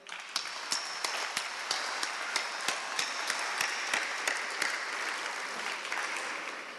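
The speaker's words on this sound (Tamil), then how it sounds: "பலத்த கரவசம்." Loud, sustained applause from a conference audience at the FeTNA 2011 Tamil gathering, dense steady clapping with sharp individual claps standing out, continuing without talk throughout.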